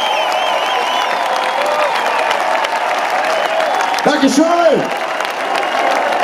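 Concert crowd applauding and cheering after a band performs a song live in Ochtrup, a steady dense wash of clapping and shouts from a large audience, with a voice briefly thanking them over it.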